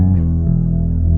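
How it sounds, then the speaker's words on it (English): Electric bass tones ringing over a sustained low E drone, sliding through notes of the fourth mode of harmonic minor, with a dark, effected timbre and a note change midway; steady and close, no talking. "One good reason to play it on an E is then you can get an E drone and play the mode"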